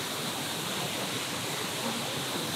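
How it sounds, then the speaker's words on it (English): Steady, dense rushing of Multnomah Falls in Oregon, a continuous broadband roar that stays even throughout with no breaks. "if you can hear a waterfall sound behind me"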